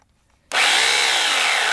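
A $40 Harbor Freight 14-inch electric chainsaw starts abruptly after a quiet moment and then runs as a loud, steady high whine, held close and alone.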